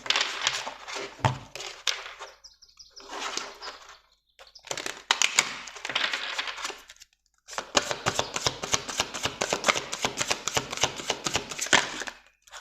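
Oracle cards being shuffled to draw an advice card, several bursts of riffling and rustling card stock with short pauses, ending in a long rapid run of flicks, close and clear.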